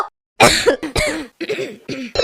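An animated cartoon boy with viral fever symptoms coughs in a loud, rapid series of harsh bursts with brief gaps, close and prominent, with a throat-clearing quality.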